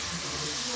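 Water poured into spices frying in a pan for a lobia (black-eyed bean) and potato curry with peas sets off a loud, steady steamy hiss that fills the short moment without a break.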